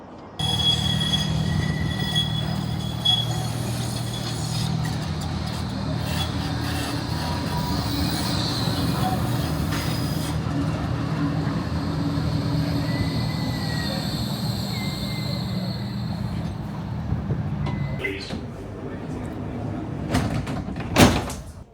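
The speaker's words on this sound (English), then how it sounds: "we're going back to Talbot Square now to get a tram to Blackpool North Station" Riding aboard a Blackpool tram, a steady low rumble of motor and wheels with faint hums and a squeal, then near the end the sliding doors clatter and thump as the tram stops.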